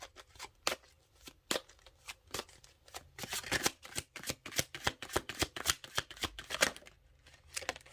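Tarot cards handled and drawn by hand, with a run of crisp, snapping card flicks and riffles in irregular bursts that grow denser toward the middle, close and quiet, no voices.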